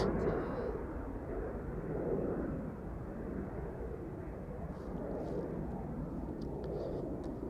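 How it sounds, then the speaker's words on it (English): A Play Airbus A321neo jet departing Amsterdam Schiphol for Reykjavik, a continuous broad engine roar heard from some distance, holding steady throughout with faint chirps above it. "Playtime A321neo going to Reykjavik"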